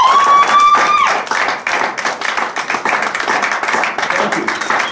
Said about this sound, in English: I want you all to give a big hand applause to Deacon Eric